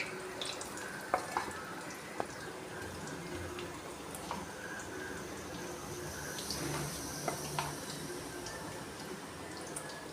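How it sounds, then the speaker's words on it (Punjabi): Lentil dumplings (vadiyan) frying in hot oil in a home kitchen, giving a steady low sizzle with scattered crackles and pops and a few sharp clicks, fairly close and moderate in level throughout. "ਤੇਲ ਗਰਮ ਹੋ ਚੁੱਕਿਆ ਜੀ ਆਪਾਂ ਥੋੜੀ ਥੋੜੀ ਬੜੀਆਂ ਹੁਣ ਫਰਾਈ ਕਰਨ ਵਾਸਤੇ ਪਾ ਦਿਆਂਗੇ"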